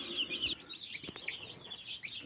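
Newly hatched chicks under broody hens peep continuously in high, overlapping chirps, faint and close, with a low cluck and a soft thump partway through.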